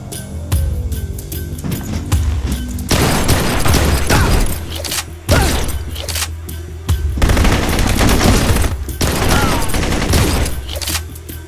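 Heavy gunfire from the shooter video game Blue Estate, with dense bursts of automatic fire and shots continuing almost without a break, loud and close, with short pauses between volleys.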